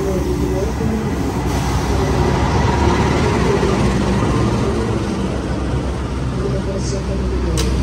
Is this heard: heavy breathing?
no